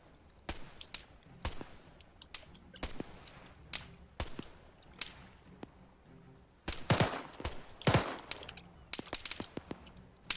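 Gunfire in the military shooter Arma 3 comes as scattered sharp cracks, some single and some in quick bursts, moderately loud and partly distant, thickening into a denser volley about two thirds of the way through, with no talking.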